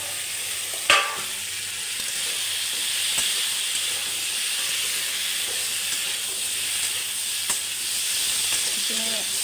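Taro and vegetables fry in a pan with a steady hiss and sizzle, occasional sharp clinks of a utensil against the pan punctuating the continuous frying noise.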